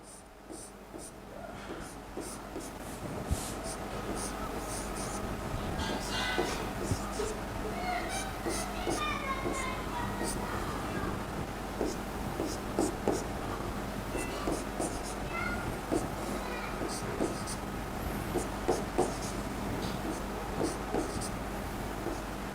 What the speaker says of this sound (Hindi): ऐसे ही अगर मैं लिखता हूं यहां पे,